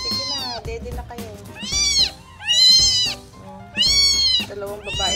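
A pet cat meows repeatedly in a home, several loud, drawn-out, rising-and-falling cries in quick succession, close to the listener, with someone talking in between.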